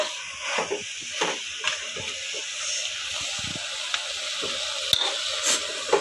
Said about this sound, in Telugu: నేను బాగా కలిపేసి ఇట్లా ఒక రెండు నిమిషాలు అయితే పెట్టేస్తాను